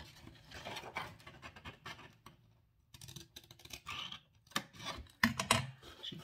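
Scissors cutting cardboard to make a shipping box, close crisp snipping and rasping strokes in short irregular bursts with a brief pause midway, no talking.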